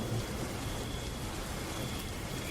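Steady rain falls continuously, a dense even hiss of drops with no voices, unbroken from start to finish.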